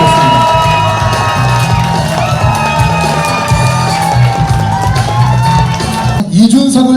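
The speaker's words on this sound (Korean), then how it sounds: "여러분 큰 박수 부탁드리겠습니다." A large crowd cheers and shouts at a political event honoring party leader Lee Jun-seok, a loud, dense, continuous roar that holds steady for several seconds before shifting near the end.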